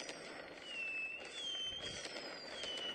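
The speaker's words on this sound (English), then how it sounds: "We'll put some fireworks." Fireworks go off in a battle video game, a faint steady crackle with a few whistling streaks rising and falling over it.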